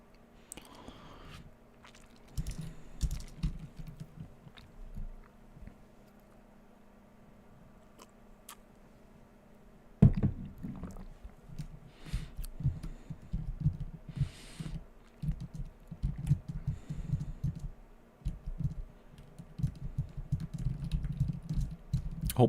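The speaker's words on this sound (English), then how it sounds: "Hope the keyboard clicks aren't too loud." Computer keyboard clicks during a computer game, irregular bursts of close, soft clacking keystrokes that pause and resume, with a busier stretch of rapid typing in the second half.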